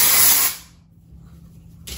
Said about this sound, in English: I'm just spraying all over until I am satisfied